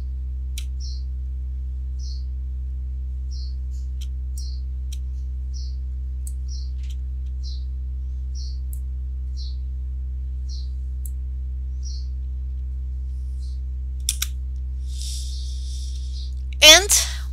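Repeated press of the C key on a computer keyboard: a dozen soft, evenly spaced clicks, faint and close over a steady low hum, ending with a brief louder rustle.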